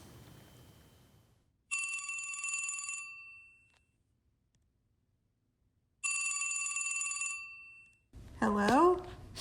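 A telephone rings twice in a classic electronic double-burst pattern, each ring over a second long with a pause between, loud and clear; a voice speaks briefly at the end.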